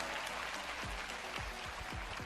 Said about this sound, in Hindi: ये तालियां इसरो के लिए बहुत जरूरी थी